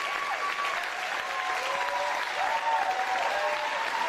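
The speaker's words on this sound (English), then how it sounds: "You can hear the applause dies down and then kind of goes back up." An audience at a live show applauds steadily, the clapping easing down slightly and then swelling back up, dense and continuous without speech.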